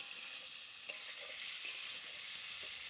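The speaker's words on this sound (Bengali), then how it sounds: "আমাদের মাছের ঝোলের জন্য আলু মাছ এসব ভাজা চলছে" Potatoes and fish frying in oil for a fish curry, a steady close hiss of sizzling that stays even throughout, with a few faint soft knocks from stirring.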